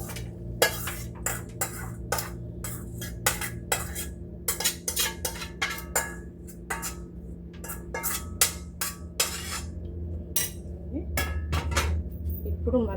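Fried ridge gourd peel is scraped from a pan onto a plate, with a busy run of sharp metallic clinks, taps and scrapes of a utensil against cookware, close and irregular.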